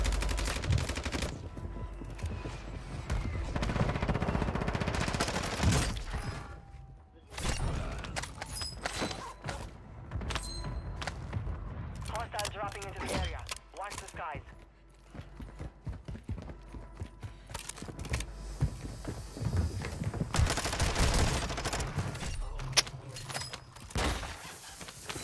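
Lachman 556 rifle fire in a Call of Duty match comes in repeated rapid bursts of sharp gunshots, with quieter gaps and scattered game effects between volleys.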